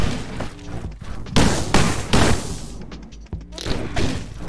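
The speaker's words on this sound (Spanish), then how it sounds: "A ver, a base de pedos, explosiones" Cartoonish explosions in the stick-figure brawler video game Stick It to the Stickman, several loud booming bursts in quick succession with crashing impacts, a short gap, then more blasts.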